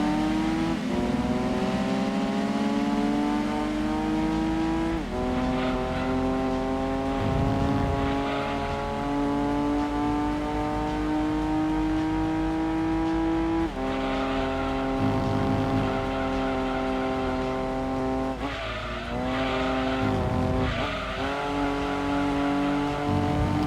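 Race car engines roar and rev continuously in Gran Turismo 2 on PS1, pitch climbing and dropping through gear shifts, with brief tire squeals and no speech.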